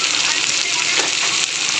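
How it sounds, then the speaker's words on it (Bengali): Onion, garlic and green chilli fry in hot oil with a fish head, making a loud, continuous crackling sizzle up close that stays steady throughout. "এই পেঁয়াজ রসুন কাঁচা লঙ্কা দিয়ে ভাজা ভাজা করবো"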